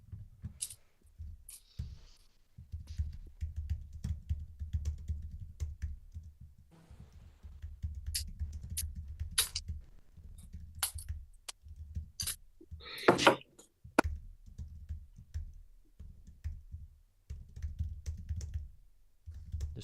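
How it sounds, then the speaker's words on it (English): Fingers tap quickly on a computer keyboard, an irregular run of soft close clicks and keystrokes with brief pauses and a few sharper knocks, quiet and alone. "Just typing up your email."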